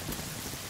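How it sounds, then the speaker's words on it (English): Heavy rain pours down in the survival game Sons of the Forest, a dense, even broadband hiss of steady downpour with no talk over it. "Oh, starting to pour down."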